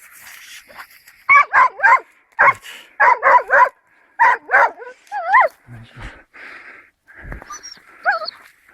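A hunting dog barks in quick bursts of short, close barks, with higher yips and whimpering whines between them, on a wild boar hunt by a creek.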